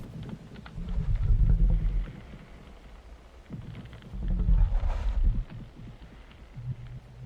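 Idle sound of an icy creature from the game The Wings of Dawn: deep, slow rumbling growls that swell and fade in two long waves, with a faint breathy hiss between, alone and without talk.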